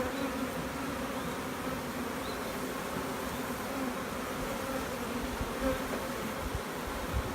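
Honeybees buzzing around well-fed beehives during queen rearing work, a dense continuous drone of many insects close by, steady and loud with no speech.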